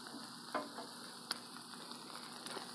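Carrots and onions fry on a Blackstone griddle with a soft, steady sizzle, faint and close, broken by a couple of light spatula scrapes and clicks.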